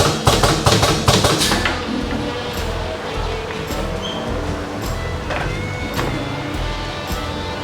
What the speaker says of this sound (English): This is the pinning machine for fixing the different sections of the frame together